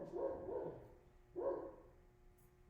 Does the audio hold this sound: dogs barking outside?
yes